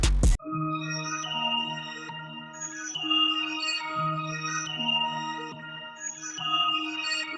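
A melodic music loop from a free sample pack plays clean and close, sustained tonal chords shifting in a steady repeating pattern after a brief click at the start.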